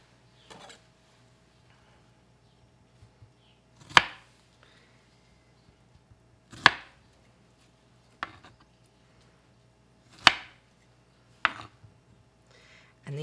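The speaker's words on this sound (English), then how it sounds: "let's go ahead and chop these up" Knife chops through strawberries on a cutting board, about seven sharp, distinct strikes spaced irregularly with quiet gaps, close and clear.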